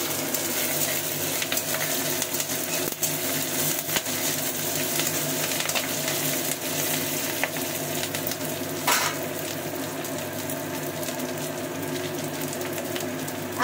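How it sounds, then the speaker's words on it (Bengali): Curry leaves frying in hot oil give a loud, continuous crackling sizzle that holds steady throughout, with occasional sharper pops and a brief stir or clink, and no voices. "কারি পাতাগুলো আমি সুন্দর করে ভেজে নেব"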